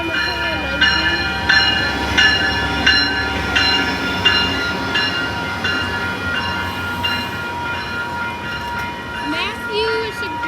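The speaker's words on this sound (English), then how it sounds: "This is an Amtrak. I don't know what it is. SC44 leading." An Amtrak train led by an SC44 locomotive passes close by, its loud rumble and clattering cars carrying steady tonal whines throughout.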